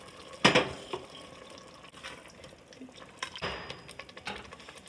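Water is poured into an Instant Pot holding chicken pieces for biryani, a splashing pour that swells briefly near the start, then softer trickles and a second burst later, close and with no talking.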